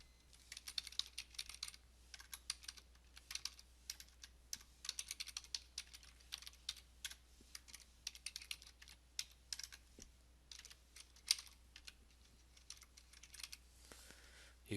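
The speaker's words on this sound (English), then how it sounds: "I'm going to type in my address real quick" An address is typed on a computer keyboard, a long, quiet, steady run of light key clicks with brief pauses, close and with no talk.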